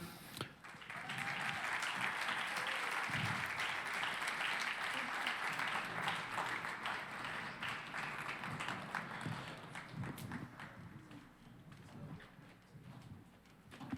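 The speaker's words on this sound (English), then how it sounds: "Maybe you can clap a little bit longer." An audience at a church leadership event claps in sustained applause that swells and holds for several seconds, then thins out toward the end, heard from within the crowd.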